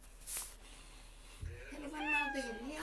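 A cat gives a drawn-out, wavering meow near the end, following a brief rustle and a soft thump against quiet background.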